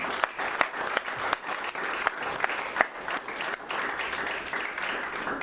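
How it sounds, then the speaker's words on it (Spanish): Church congregation applauding together, a steady dense wash of many hands clapping at close range, with a few sharper individual claps standing out and no other sounds. "Denle un buen aplauso a Cristo."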